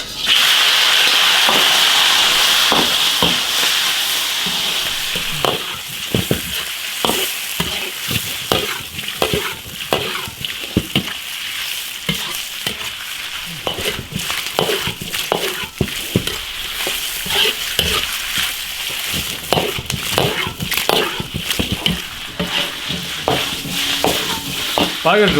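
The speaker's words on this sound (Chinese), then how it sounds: "猪头肉下锅炒。" Pork head meat stir-frying in a hot wok, a loud steady sizzle broken by repeated scraping stirs and clanks of the spatula throughout, with no voices.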